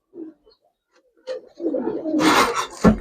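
Giribaz silver pigeons cooing close by, a soft low coo early on, then louder, busier cooing with rustling and fluttering toward the end.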